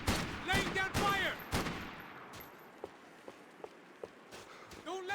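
Gunfire in the video game Max Payne 3: rapid bursts of shots crackle up front, then fade into scattered, distant single pops and footsteps, with shouted voices over the firefight.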